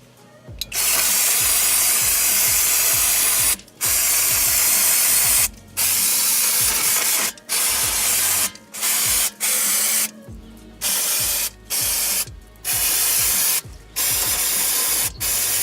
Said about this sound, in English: I'm gonna spray this with a little bit of brake cleaner to get most of the dirt and dust off